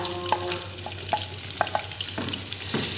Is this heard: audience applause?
no